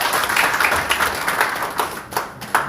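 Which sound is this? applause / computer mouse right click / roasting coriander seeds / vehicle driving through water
applause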